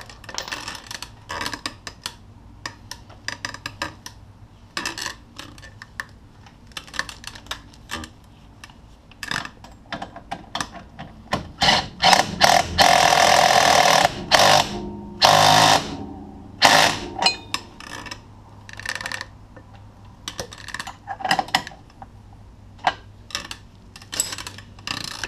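A hand socket wrench tightens a bolt on a Polaris RZR 570 during a Perfex 2-inch lift kit install, with quick ratcheting clicks in bursts and one louder sustained run of rapid clicking near the middle, close by.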